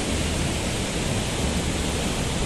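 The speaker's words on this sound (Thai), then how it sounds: "นี่คือส่วนที่เป็นน้ำตกนางรองแท้ๆ" Nang Rong waterfall in Nakhon Nayok, a steady, loud broadband rush of falling water, unbroken and close, with no voices.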